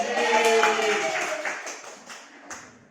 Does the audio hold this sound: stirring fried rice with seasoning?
no